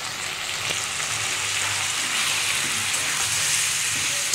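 Dry ground spices with chilli powder and turmeric and a splash of water sizzle and hiss steadily in a hot pan, a constant close frying sound with no talking over it.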